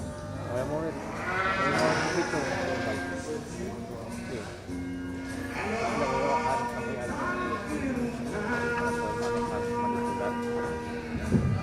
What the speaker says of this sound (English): nice set of sheep here